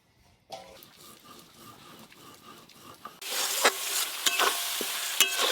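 Spices for a fish curry, with rupchanda fish, fried and stirred in a pan. A quiet scraping and stirring opens, then a louder, steady sizzle begins partway through, broken by sharp clacks of the spoon.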